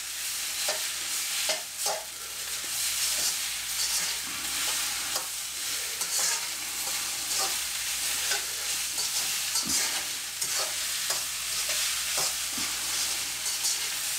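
Egg fried rice with peas is stirred in a sizzling pan, a steady frying hiss broken by repeated scraping and tapping strokes of a utensil at an uneven rhythm, close and without speech.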